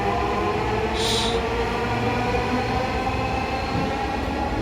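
A Dhaka metro rail train pulling out of a station, a steady loud rumble and whir of rolling carriages that holds throughout with no talk.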